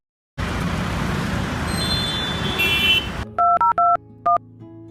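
Loud road traffic noise cuts off, followed by four short, evenly spaced keypad dialing tones, clear and close.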